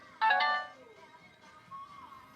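A phone notification chime sounds once, a short bright tonal burst near the start, followed by faint quieter tones and low background murmur.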